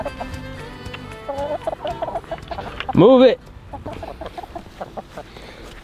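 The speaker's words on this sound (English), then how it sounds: "Come on, chickens." Farm chickens clucking close by in steady, busy chatter, with one louder squawk in the middle, while a person briefly talks over them.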